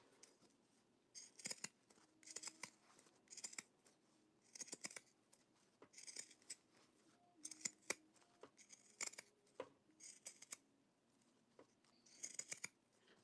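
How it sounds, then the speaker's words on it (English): Regular fabric shears snip through a thick layer of fabric in repeated bursts of crisp cuts, each cluster of sharp blade clicks separated by short pauses, close and fairly quiet with no voices. "I'm just going to use my regular shears to go over cuz I've got like that much fabric there to go through."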